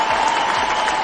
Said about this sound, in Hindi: एक जोरदार ताली होनी चाहिए उनकी।